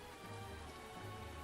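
A torrential downpour of rain, heard as a steady, dense hiss that runs unbroken through the whole moment with a low rumble underneath and no voices.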